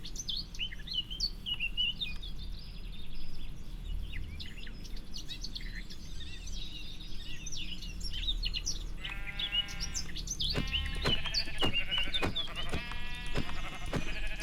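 Sheep in a video game bleat in a cluster of quick harmonic calls late on, loud and close, over a bed of birdsong chirps and ambient game sounds, with no talking.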